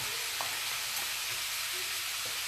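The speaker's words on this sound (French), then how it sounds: "Alors, je peux le mélanger un petit peu avec la spatule." A crumble mixture of courgette and goat's cheese with parmesan is stirred lightly with a spatula in a square fluted tart tin, giving a steady soft sizzle and hiss with a few faint scraping touches and no voices.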